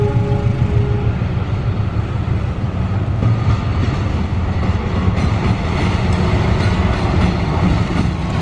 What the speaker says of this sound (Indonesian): Ini dia, guys, lokomotif CC206 livery ketupat beduk.